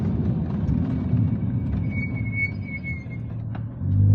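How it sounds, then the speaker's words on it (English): Race brakes on a flat-six car give off a thin high squeal in brief repeated bursts over a low rumbling road and engine drone, fairly faint against the background. "It's got the race brakes on there, so that's what you're hearing. Squealing"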